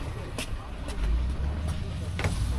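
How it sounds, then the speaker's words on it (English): Traffic jam on a rural road near the Myanmar border in China, a low steady rumble of idling engines with occasional brief hisses and passing vehicle swells, with voices in the background. "We have a traffic jam right now."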